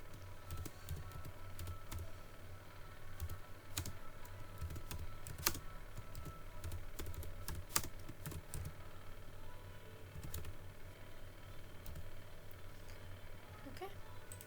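Quiet clicks of a computer keyboard come in irregular bursts as a dummy address is typed, with occasional sharper keystrokes and a faint room hum underneath.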